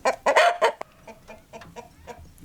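Egg-laying hens cluck close by in a few loud bursts at first, then settle into softer, scattered clucks and murmurs in the background.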